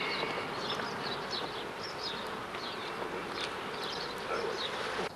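Honey bees buzzing steadily around two hives set out in front of a house, a dense, continuous outdoor hum with individual insects passing close now and then, no voices.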